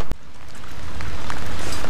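Rain pours steadily onto the ventilation system of a water heater under test, a loud continuous hiss and patter of drops that starts after a brief click and swells slightly, with no voices.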